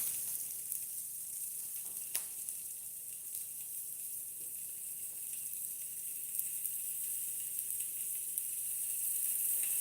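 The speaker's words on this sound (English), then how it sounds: "You guys could hear the nice sizzling." Food sizzling in a pan while cooking at home, a steady soft hiss with faint crackles running throughout, no talking.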